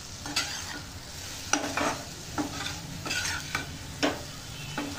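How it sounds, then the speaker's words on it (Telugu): A spoon stirs goat brain fry in a pan, each stroke giving a short scrape and clatter every half second or so, over a low, steady sizzle. No one talks. "కలుపుతున్నాను కూడా చూడండి ఎట్లా ఉందో"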